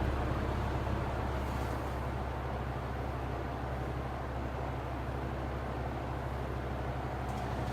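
A vintage Chelsea Constellation reversible box fan runs at low speed, giving a steady, even whirring drone with a low hum that stays unchanged throughout, with no talking.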